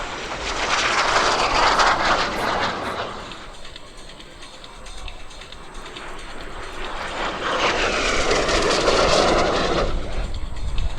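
A T-28 trainer aircraft makes a low flyby at an airshow, its radial engine roar swelling loud and broad as it passes close, fading in the middle, then building again as it returns.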